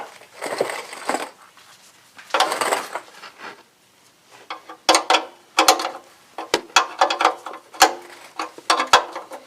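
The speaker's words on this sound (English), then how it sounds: "Get my tool and I'll screw that back in." A hand tool driving a screw back in during an oil change on a 1999 Chevy Suburban, with a couple of rasping scrapes followed by rapid clicking ratchet turns and small metallic taps, close and intermittent.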